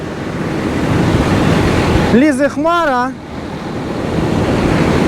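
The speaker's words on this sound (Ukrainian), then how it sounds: "А вітер зірвався такий, що от маю на причепі трохи ріпаку, то з причепа ріпак здуває" Strong wind roars across the microphone in a continuous loud rush during a rapeseed harvest, blowing rapeseed off a trailer, with a person speaking briefly in the middle.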